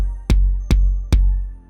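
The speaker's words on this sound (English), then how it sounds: "So when layering those two sounds together," Three deep, booming kick drum hits layered with an 808 sample, evenly spaced about four-tenths of a second apart, each with a sharp attack and a long, low, sustained tail, loud and alone.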